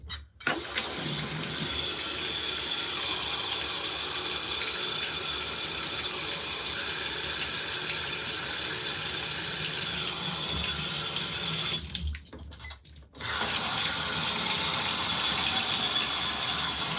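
An LG ThinQ MEGA Ultimate washing machine filling with hot water, a steady hiss and rush of water pouring into the drum, with a short pause and valve click before the flow resumes.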